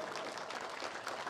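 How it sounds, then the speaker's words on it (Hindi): Soft, distant applause at a Govardhan Puja gathering in Masaurhi, a smeared wash of many hands clapping, heard briefly and faintly. "आपकी तालियां रुकनी नहीं चाहिए।"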